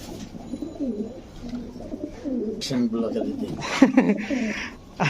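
Frill back pigeons coo in repeated low, throaty rolls close by in a market pigeon loft, mixed with people talking over them.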